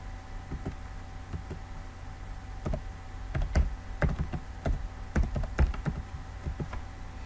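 Someone types text on a computer keyboard: sparse, irregular key clicks close by, growing quicker and louder toward the end, with no talking.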